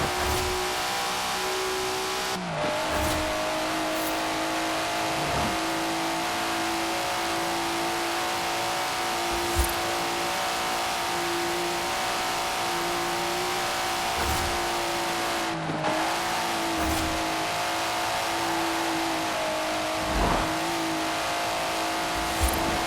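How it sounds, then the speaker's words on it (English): Upgraded Datsun revving hard in the racing game Forza Horizon 4, a steady loud engine drone with rising and falling pitch across several gear shifts, plus occasional tire squeal, with no talking. "Listen to that. Never heard a Datsun sound like that, have you?"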